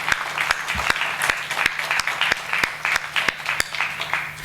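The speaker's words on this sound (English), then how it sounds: "A huge round of applause for him" An audience at a skills competition and conference breaks into a steady round of applause, with clear individual claps in a fairly regular, moderately loud rhythm throughout the short stretch.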